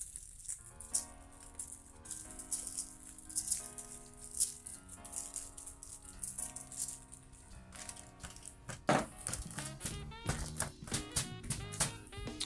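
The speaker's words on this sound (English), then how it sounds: "And then give it another sprinkling down on the other side." Seasoning is shaken over a piece of pork, a rapid, close rattling patter in repeated bursts, with soft musical tones sounding underneath.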